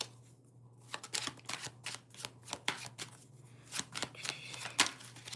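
Tarot cards are shuffled and drawn by hand, giving quiet, close papery flicks and snaps in irregular bursts, with no one talking.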